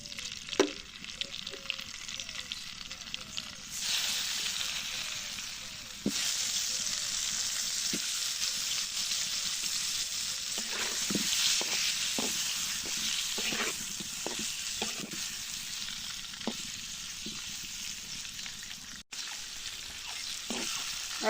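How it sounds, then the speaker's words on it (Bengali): Eggs frying in hot oil with turmeric and salt added, a steady close sizzle that swells louder after a few seconds, punctuated by light clicks and taps of stirring. "ডিমের তেলের মধ্যে একটু হলুদ দিছি আমি, একটু নুনও দেবো।"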